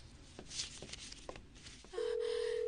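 A telephone starts ringing with a steady electronic tone after a few faint clicks and shuffles, continuing loud to the end.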